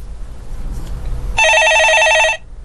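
A telephone rings with one loud, close burst of bright electronic trilling lasting about a second, after a stretch of quiet room noise.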